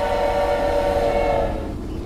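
A train horn sounds in the GTA 5 video game, a loud sustained tonal blast over rolling rail rumble that fades slightly near the end, with no talking.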